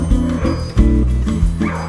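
A dog at a boarding facility barks in quick yips and whimpers, close and loud, in several short bursts.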